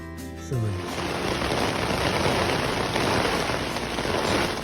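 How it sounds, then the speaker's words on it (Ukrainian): Heavy rain drumming steadily on a tent, a dense close hiss that starts abruptly and continues without a break. "Дощ лупашить."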